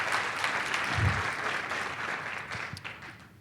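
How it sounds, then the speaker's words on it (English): Conference audience applause at an opening keynote, a broad, even patter of many hands clapping that holds steady and then thins out slightly toward the end, moderately loud and without speech. "Round of applause for the people behind the curtains."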